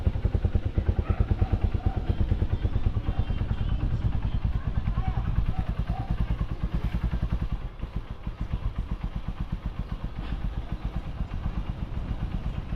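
A boat engine runs rough and misfires, a loud, near, uneven chugging thump with clattering irregular beats throughout, and people talk over it.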